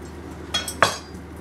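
A knife chopping the end off a log of frozen cookie dough on a cutting board, two quick sharp knocks close by in a quiet kitchen.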